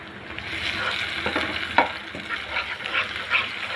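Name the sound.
eggs frying in a pan, stirred with a spatula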